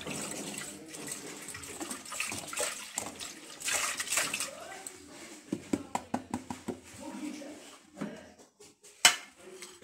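Half a litre of milk poured into a saucepan, a splashing liquid stream against the pan, followed by light clinks and knocks of utensils and cookware in a home kitchen.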